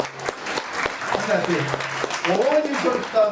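Audience clapping at a Tulu community stage event honouring a guest, a steady burst of applause running throughout with a voice speaking over it.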